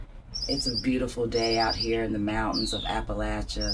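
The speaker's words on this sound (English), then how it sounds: "Now you hear the birds chirping." Birds chirp and tweet outdoors in the mountains of Appalachia on a fine day. Someone talks over the birdsong, and the high calls come through clearly beneath his voice.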